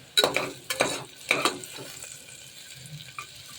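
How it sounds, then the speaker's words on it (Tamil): Onions sautéing in a pan for a kushka biriyani, with a soft sizzle under a few sharp stirring scrapes at irregular intervals, close by and fairly quiet. "வெங்காயம் வதங்கட்டும், வெயிட் பண்ணலாம்."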